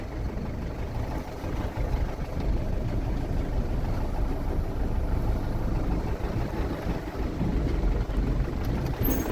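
A mini tractor engine runs steadily on a village farm plot planted with cabbage and peas in Uttarakhand, a continuous low rumbling drone holding at an even level throughout with no talk.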